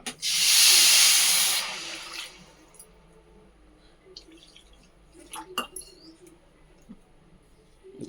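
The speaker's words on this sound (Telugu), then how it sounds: "వాటర్ పోసుకున్నాం" Water poured into a hot pan while making bread halwa gives a loud burst of sizzling hiss that lasts about two seconds and fades, followed by quieter bubbling, faint crackles and a few utensil clicks.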